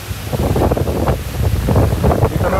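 Strong southwest monsoon wind in Boracay during a typhoon roars and buffets against the microphone in loud, uneven gusts, with a rushing, surf-like wash underneath.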